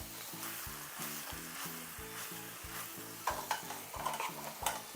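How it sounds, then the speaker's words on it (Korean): Bok choy and shrimp stir-fried over high heat with a spoon of soy sauce, a steady loud sizzle under rhythmic spatula scrapes and clanks against the pan. "이렇게 해서 이제 계속 볶아줍니다."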